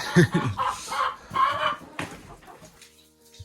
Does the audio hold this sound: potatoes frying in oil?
no